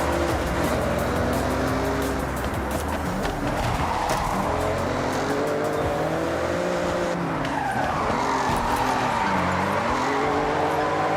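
Car in Forza Horizon 6 drifting through an overtake, with a loud, continuous engine roar that rises and falls under sustained tire squeal throughout.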